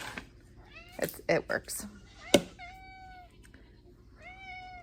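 Several pet cats meow for their food in a home, giving a few drawn-out, rising cries near the microphone, mixed with brief talk and a sharp knock or clatter.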